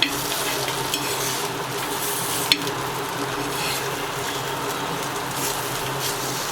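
Rawas fish frying in a pan and being turned to its other side, a steady loud sizzle with one sharp clink from the turning utensil.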